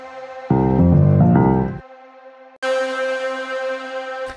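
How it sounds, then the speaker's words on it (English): Synth patch played as a cymbal through heavy Valhalla Room reverb: a dense, bright burst of tones that swells and fades, then after a short gap a second sustained, shimmering wash rings out loudly and evenly. "a synth patch played as a cymbal, with a lot of reverb from Valhalla Room"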